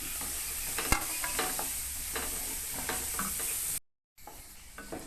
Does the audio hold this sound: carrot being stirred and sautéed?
yes